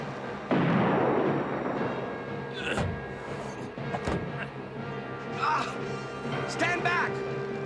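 Cartoon cannons fire from a pirate-era ship: a loud, booming blast rolls out, followed by crashes and thuds, and voices shout and talk over the din.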